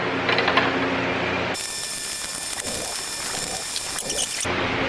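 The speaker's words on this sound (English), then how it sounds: "Just have to loosen the bolts and pull the lights back through." Ratchet wrench loosening bolts on the lights of a Toyota Tacoma during grille work: a steady, close run of fine ratcheting clicks lasting about three seconds, with a low hum before and after, no talking.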